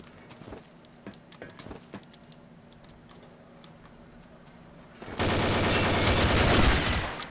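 Rapid video-game gunfire in Combat Arms, a few sharp isolated shots early on, then a loud, dense sustained burst of automatic fire over the last couple of seconds.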